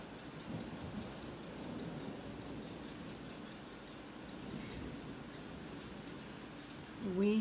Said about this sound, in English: We seem to lose our power every time we get a storm up here in Sauble